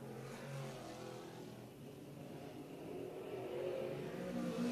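Race cars accelerate on a hot lap at All-Tech Raceway in Lake City, Florida, engines revving and droning at a distance, the sound slowly swelling and fading as the cars circle the dirt track.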